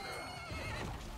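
A horse whinnies in a Viking-era battle video game, with a single loud, close neigh and hooves clopping beneath it.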